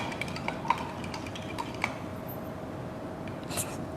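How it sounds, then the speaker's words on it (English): Detergent is stirred into water with a utensil, producing a few light clinks and taps against the container at the start over a soft, quiet background. "and I'll stir it"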